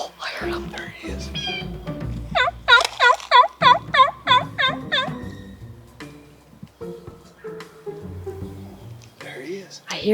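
Wild turkey gobbling in a field, a rapid burst of rattling gobbles in the middle, fairly close, with people talking quietly before and after.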